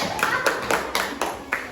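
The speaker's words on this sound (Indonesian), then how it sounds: "kita beri tepuk tangan dulu untuk kelompok 1." A primary-school class of third graders claps for a group that has just finished presenting, a few distinct nearby hand claps in an irregular rhythm over roughly two seconds.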